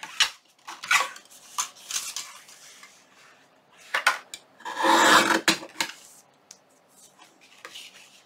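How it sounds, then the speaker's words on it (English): Scissors cut a paper strip for a junk journal in short, close snips and rasps, with a longer cutting stroke in the middle and quiet gaps between. "let's cut another piece right down like that"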